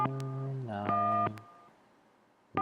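Telephone tones from the Gabriel Knight: Sins of the Fathers video game: a steady electronic tone, a short burst of dialing beeps, then quiet before another tone starts at the end.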